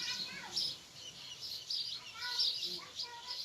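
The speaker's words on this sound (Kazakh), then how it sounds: "Көріп отырсыздар, қарлығаштардың балапандары шыққан, біраз өсіп қалған." Swallow chicks in a nest chirp in thin, high, repeated peeps that come in quick clusters. The sound is faint and close, with a person talking softly underneath.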